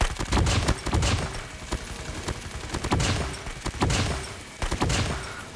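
RUS-79U submachine gun fire in a shooter game, several quick bursts of rapid sharp shots separated by short pauses, loud and close with no talking.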